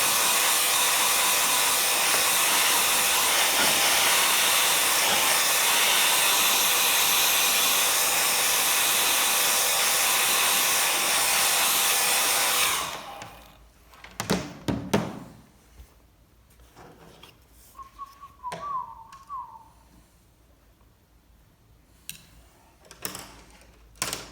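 A hair dryer blows loud and steady while drying a watercolor painting, then cuts off abruptly halfway, leaving quiet room sounds with scattered knocks and taps.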